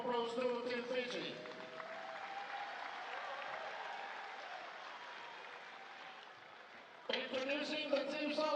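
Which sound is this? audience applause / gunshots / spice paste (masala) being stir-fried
audience applause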